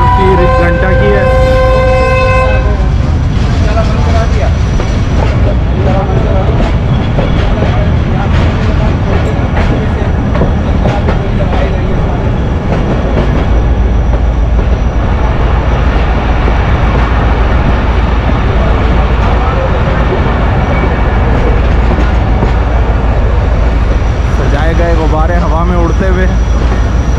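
Marvi Express passenger train rolling slowly into a station yard, a loud continuous rumble and rail clatter throughout, with a horn blast near the start and a narrator talking over it.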